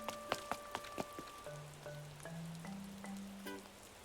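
Light rain patters steadily in Animal Crossing New Horizons, with soft plinking game music notes over it and no talk.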